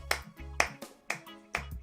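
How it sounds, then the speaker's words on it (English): Four loud, distinct hand claps at an even, unhurried rhythm, close and alone with no talking. "I'm just clapping for the universe, man."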